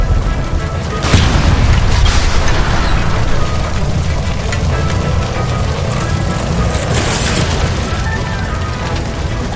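A gas line explodes in the video game L.A. Noire. A loud boom near the start leaves a heavy, rumbling roar that holds steady and fades only a little.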